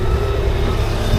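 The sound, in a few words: bus driving away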